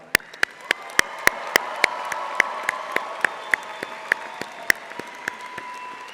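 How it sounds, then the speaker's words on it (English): Scattered, sparse clapping at the UC Irvine Law 2026 commencement ceremony: a slow, regular run of sharp single claps, fairly close, spaced about a third of a second apart over a quiet room. "Let's have a round of applause."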